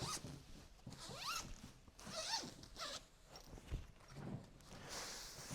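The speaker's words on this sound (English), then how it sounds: "find your zipper, unzip the cover" Zipper on the cover of a Yogibo Ottoman being unzipped, several quick rasping zip strokes in bursts with brief pauses between, close to the microphone, no talking.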